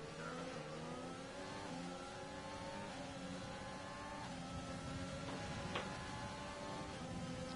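F1 cars in a league race at Paul Ricard in an F1 video game accelerate at a restart, with several high-pitched engines revving and shifting up together steadily, loud and continuous, with no talking.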